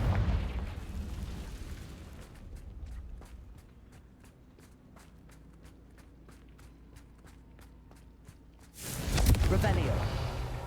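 Explosive Confringo spell blasts in Hogwarts Legacy: a loud, booming burst at the start, a quieter stretch of rapid clicking steps, then another heavy blast near the end, with a person talking over the game.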